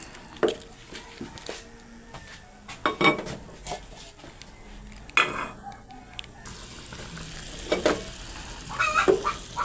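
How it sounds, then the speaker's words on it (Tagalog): Bubbling and sizzling from a pot of chicken soup (tinola) boiling on the stove, with scattered clinks of utensils against cookware throughout. "Ayan po ay kumukulo na."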